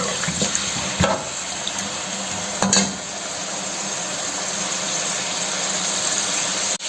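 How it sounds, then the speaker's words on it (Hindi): Chicken pieces browning in hot oil for a traditional chicken qorma, a steady close sizzle with a couple of brief utensil clatters, no voices. "इसी ऑयल के अंदर आपने चिकन को ब्राउन करना है अच्छे तरीके से"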